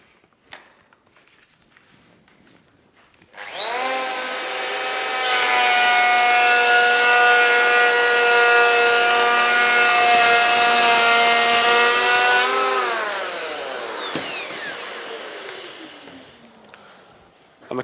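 A Festool EHL 65 EQ electric planer spins up, then runs steadily and loud through a 2 mm cut in wood for about nine seconds before winding down, heard alone with no talking.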